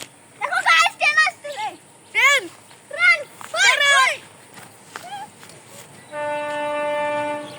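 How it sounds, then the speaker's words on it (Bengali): A train horn sounds a sustained steady blast near the end at a red railway bridge, after lively chatter and children's voices fill most of the clip. "সবার রেডি তো ট্রেন দেখার জন্য"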